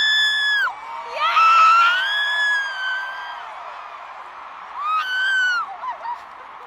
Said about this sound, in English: the scariest scream I've ever let out in my entire life